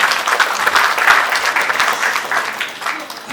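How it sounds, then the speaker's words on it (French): Congregation applauding at a church charity trophy ceremony in Kinshasa, a steady, dense wash of clapping that holds fairly loud for the whole stretch and tapers slightly at the end. "Applaudissez encore le Seigneur."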